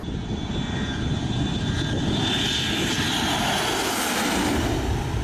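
A private jet's aircraft engine gives a loud, steady, broadband roar that holds at an even level throughout, with no talking over it.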